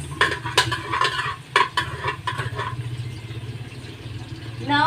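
Garlic and onion cook in a pan for Filipino nilaga, with a spoon clinking and scraping the pan in quick taps over a soft steady sizzle close by.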